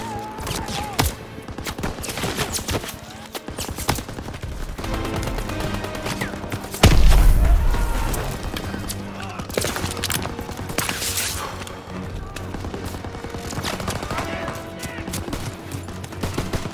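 Machine gun bursts and heavy shelling crash through a Normandy beach battle in Call of Duty, a dense, continuous barrage of rapid gunfire with a loud concussive blast midway and fainter shouted voices beneath.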